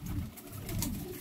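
Pigeons coo nearby in low, rolling murmurs, soft but distinct, with no talking.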